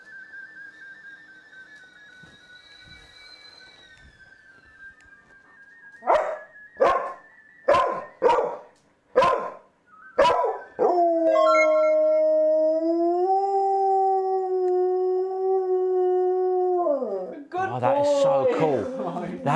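A person whistles a few notes, then gives a burst of sharp short calls, and a dog answers with a long wavering howl that rises and slides in pitch. The howl is close and sustained, and voices chatter around it in a casual indoor setting.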